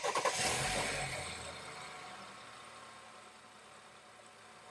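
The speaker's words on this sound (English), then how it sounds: "You only hear the sound from the engine." A 2017 BMW X3 with the N20 engine, fresh serpentine belt and tensioner fitted, cranks and catches with a brief burst, then settles into a quiet, even idle with no belt or pulley noise.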